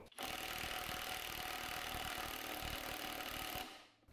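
Skil 1/2 inch impact wrench hammering in regular mode: a loud, steady, rapid rattling burst lasting over three seconds and then cutting off, with no voices.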